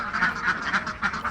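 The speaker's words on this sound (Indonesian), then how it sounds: "itu bebek Mojosari namanya" Mojosari ducks quack in a rapid, nasal chorus close by, the repeated calls overlapping in a steady rhythm with no voices.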